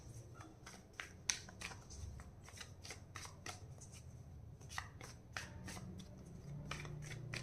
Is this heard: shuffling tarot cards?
yes